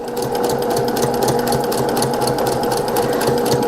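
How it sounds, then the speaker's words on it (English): Sewing machine running steadily as it stitches a scant quarter-inch seam on a small tote bag made from 5-inch charm squares, a close, even mechanical whir with fast rhythmic needle ticking throughout. "start my sewing"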